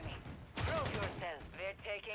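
Rapid turret gunfire in a video game, a dense burst of shots under a voice talking over it, fairly close and loud for about two seconds.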